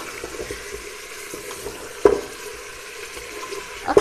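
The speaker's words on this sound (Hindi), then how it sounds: "गोश्त को हम अच्छे तरीके से भून लेंगे।" Beef pieces with garlic browning in a pan for nehari, a steady close sizzle with soft stirring scrapes and two sharper knocks of a utensil against the pot, no speech.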